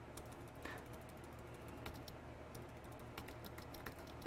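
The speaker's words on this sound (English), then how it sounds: "and type show IP route" Keystrokes on a computer keyboard as a networking command is entered, a soft, irregular patter of individual clicks at low level with no talk.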